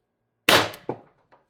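An Umarex TR50 CO2 air pistol fires a single 12.7 mm steel ball bearing with a sharp, loud pop. A quick second impact follows and a faint tap trails after, all in a quiet room.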